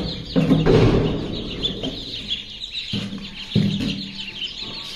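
Native local chickens cluck on a ranch with short, throaty calls and a couple of louder squawks over a busy outdoor background of other birds, fairly close.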